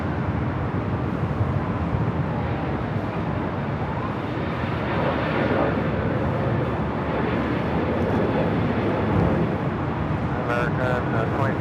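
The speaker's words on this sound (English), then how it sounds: "Doing a little runway inspection on 24 right as this A321neo rolls down 24 left." An Airbus A321neo rolls down runway 24 left at LAX, heard as a broad, steady engine roar and rumble from a distance, continuous and fairly loud, with faint radio-like chatter in the background.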